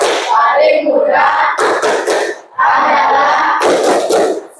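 A group of people in a training class performs a rhythmic clapping chant, two loud bursts of shouted voices and sharp hand claps with a brief pause between them.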